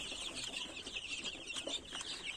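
Chicks and a small duckling in their pen, a steady scatter of high, thin peeping and cheeping close by, with light scuffling and wing flutters throughout and no talking.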